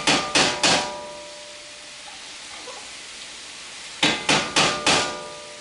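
A utensil knocks against a 12-ounce can of tomato paste while the paste is emptied into a pan for chicken jambalaya: three quick sharp taps, a quiet pause, then four more taps close by.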